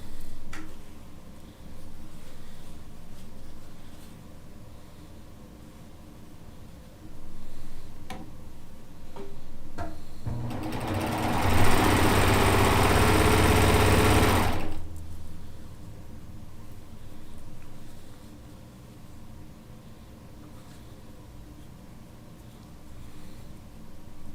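A sewing machine stitches quilt pieces together. Ticking and clicking come first, then a loud, close burst of motor whir with rapid stitching lasts about four seconds. Quieter handling noise and faint ticking follow.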